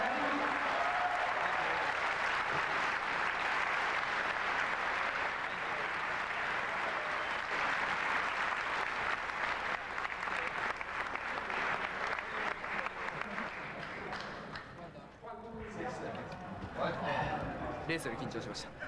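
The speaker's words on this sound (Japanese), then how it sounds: "ニャンヤの声援に応えるマサミである" A large crowd applauds and cheers steadily, a dense wash of clapping that fades somewhat toward the end, with some voices heard.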